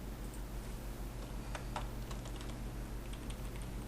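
Short bursts of clicky key presses on a computer keyboard over a steady background hum, a few quick taps clustered mid-way, no talking.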